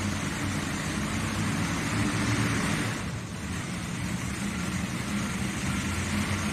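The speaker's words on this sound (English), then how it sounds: "As we hear some of the big modifieds warming up in the back here" Big modified pulling tractors warm up behind the track at a truck and tractor pull on dirt. Their engines give a continuous, rumbling drone at moderate distance, steady apart from a brief dip midway.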